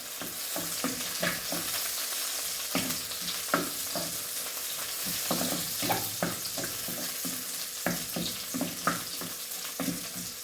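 Green chillies fry in a hot pan with loud continuous sizzling and spitting, broken by repeated scraping stirs of a wooden spoon, close and alone without talk.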